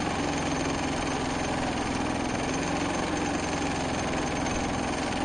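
A Predator 3500 inverter generator runs steadily at close range, a continuous even engine drone with a faint buzzing vibration and no breaks or voices over it.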